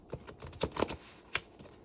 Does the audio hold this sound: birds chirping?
no